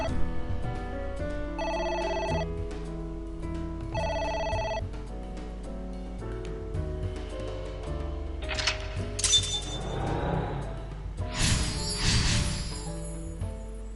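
A phone rings repeatedly in AI: The Somnium Files, with bell-like tones recurring over background music and clinking, shattering effects toward the end.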